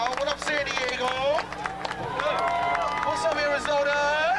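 A crowd cheering and whooping at halftime of an eighth-grade all-star game in San Diego, many overlapping shouts with some clapping and steady, busy crowd noise.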